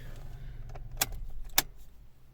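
Car keys for a 2008 Mazda 6 jangle close by in a quiet car interior, two sharp metallic rattles about half a second apart over a faint low background hum.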